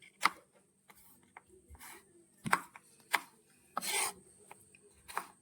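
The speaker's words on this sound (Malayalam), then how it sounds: "നമ്മൾ മാങ്ങ ഈ പരുവത്തിൽ നമ്മൾ അരിഞ്ഞെടുക്കുകയാണ്" Raw mango being cut into pieces for curry, knife strokes landing as sharp irregular chops and scraping rubs on a board, close and quiet with no talk.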